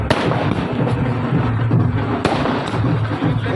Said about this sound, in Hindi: कितनी ज़्यादा आतिशबाजी हो रही है, तो आतिशबाजी को भी देख लीजिए।